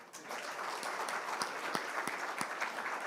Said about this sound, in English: And thanks for your applauding.